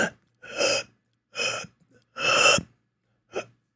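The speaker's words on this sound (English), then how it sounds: "Are you gasping for air?" A person gasping for air, four sharp breathy intakes separated by silences, the third longest and loudest, close and alone.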